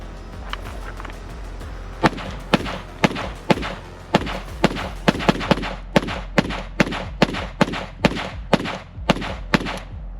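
An AK-47 pistol fires a string of sharp, loud shots outdoors, spaced in a fairly steady rhythm and ringing out close with a low rumble underneath.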